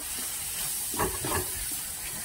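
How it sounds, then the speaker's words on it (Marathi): Spiced cauliflower and pea filling with turmeric and homemade black masala sautés in a pan over low gas, giving a steady, soft sizzle and hiss that holds evenly throughout, with no talking. "लो गॅसवर आपल्याला पूर्ण सारण परतून घ्यायचं आहे।"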